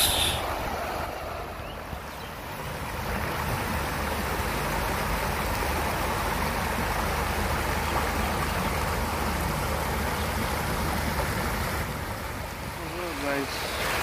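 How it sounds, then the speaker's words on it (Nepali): An artificial stream at Katara Hills in Doha, Qatar, flows with a steady, even broadband rush of water that holds almost unchanged throughout, with a faint voice briefly near the end. "खोला बगिरहेको छ।"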